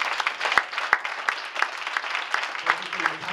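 Audience at a town committee ballot questions forum applauds the speakers, a steady close patter of many hands with a few sharper individual claps standing out.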